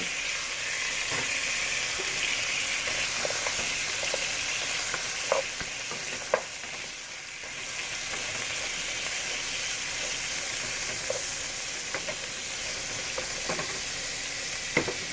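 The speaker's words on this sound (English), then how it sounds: "I'm just going to saute this for about 2 or 3 minutes" Onion with salt sautéing in a pan, a steady close sizzle and hiss running throughout with occasional stirring clicks and scrapes, no voices.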